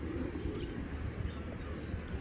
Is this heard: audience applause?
no